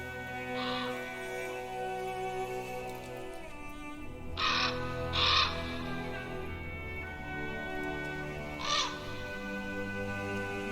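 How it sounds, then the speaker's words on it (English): A crow caws in the medieval-themed video game The Pillars of the Earth, four harsh calls at uneven intervals over a sustained musical drone, with no talking. "The crow's calling to us."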